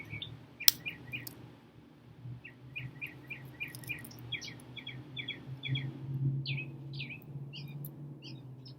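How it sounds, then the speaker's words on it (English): Small birds sing outdoors in a garden setting, with repeated bright chirps and short trilled phrases coming in quick bursts over a low, steady background hum. One sharp click stands out near the start. "I don't know if y'all can hear the birds, but they're all singing out here."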